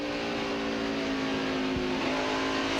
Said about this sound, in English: Hear the engine rev.